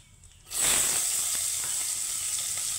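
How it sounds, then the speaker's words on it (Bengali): Chopped onion hits hot oil with curry leaves in a pan, bursting into a loud, sudden sizzle after a brief quiet moment, then holding a steady close hiss with small crackles. "তো এই পর্যায়ে আমি দিয়ে দিব কুচিয়ে রাখা পেঁয়াজ"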